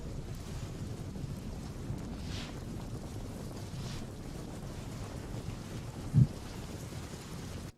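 Heavy downpour over waterlogged service roads in Thaltej, Ahmedabad, makes a constant dense hiss with wind-like rushing, and a single dull thump stands out near the end.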